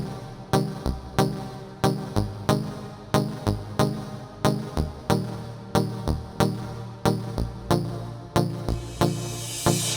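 Plucked synth playing triad chords in the right hand over bounced bass notes in the left, for a reggaeton-style beat; short, evenly spaced stabs repeat steadily and loudly with no talk.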